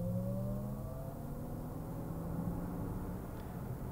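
Electric Lexus RZ 450e crossover emitting its artificial engine sound meant to mimic a four-cylinder, a steady low droning hum with faint rising tones as it gets up to speed, continuous and fairly quiet inside the cabin.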